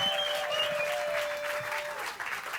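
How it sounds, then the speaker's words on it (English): Steady, continuous applause from a comedy crowd at an outdoor pier stage, a dense wash of clapping at fairly even loudness with a thin sustained tone running beneath it. "Come on, big round of applause."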